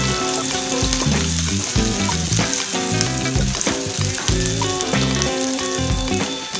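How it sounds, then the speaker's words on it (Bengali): Chopped onion frying in a pan with curry leaves and peanuts sizzles steadily at close range, partly masked by loud background music that plays the whole time. "পেঁয়াজটা একটু ভেজে নিচ্ছি,"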